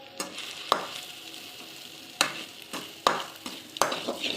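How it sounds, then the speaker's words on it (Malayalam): Grated coconut roasts in a pan while a spatula stirs it, giving sharp scraping strokes at uneven intervals over a steady, soft sizzle, close and clear. "പിന്നെ തേങ്ങ വറുത്ത് കൊണ്ടിരിക്കുകയാണ്."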